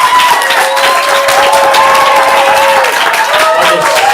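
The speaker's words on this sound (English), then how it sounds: "on the count of 3, applaud if you want the red team to get 3 big points." An audience at a student stand-up comedy showcase applauds and cheers loudly on cue, a dense steady wash of clapping that carries for several seconds, with some whoops on top.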